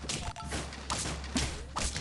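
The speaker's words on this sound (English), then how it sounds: "Bang, leopard snipes go off." A leopard snipe attack from the Super Auto Pets video game gives a dense burst of game effects, with thuds and crashing smashes over a low steady hum. Several impacts land in quick succession.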